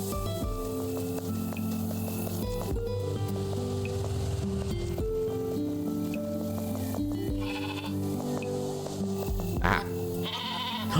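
Repeated sheep bleats from the Discounty video game rise over looping background game music, several calls in succession, clear and fairly prominent.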